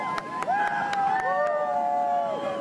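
Eagles fans cheer the team on outdoors in the rain, a crowd with sustained shouts and whoops, several sharp claps or bangs scattered throughout.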